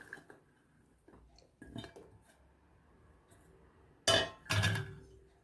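Onion rings land in a bowl of coating mixture and get tossed about: a few faint shuffles, then two loud, sharp clattering bursts near the end, with no talking.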